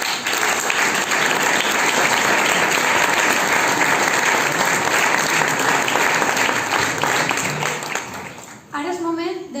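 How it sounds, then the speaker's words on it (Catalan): A crowd applauds at a Falles 2020 llibret presentation for Falla Plaça del Forn in Alzira, loud dense clapping that holds steady then fades near the end as a voice begins. "Acomiadem-nos amb un gran aplaudiment,"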